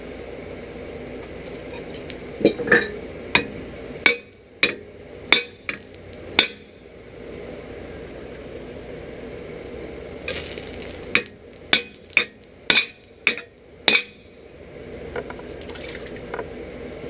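Sharp metallic ringing blows as a hot cut chisel is hammered on a soft chisel plate over an anvil, two clusters of loud, evenly spaced strikes separated by a quieter pause, close up.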